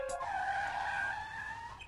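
Tires squeal in a sharp, sustained skid as a car swerves in Apollo Justice: Ace Attorney, a rising screech lasting nearly two seconds and heard alone.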